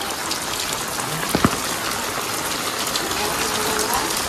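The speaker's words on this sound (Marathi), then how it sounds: "पाऊस निस्पडच आहे अजून." Heavy monsoon rain pours steadily over farmland and makes a dense, loud, continuous hiss. A brief voice and a faint knock break through for a moment.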